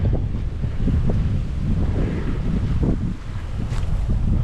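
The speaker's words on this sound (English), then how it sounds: "sorry if the wind is blowing crazy" Strong wind buffets the microphone beside a lake on a cold day at a camping area in Spring Creek WMA, a loud, steady, low roaring rush that gusts and dips briefly near the end, with no talking.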